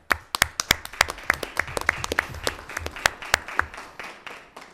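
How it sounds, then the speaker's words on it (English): Applause from a small audience at a town Board of Selectmen meeting, a scattered run of separate hand claps with no voices that thins out toward the end. "If anyone deserves a round of applause, it's you"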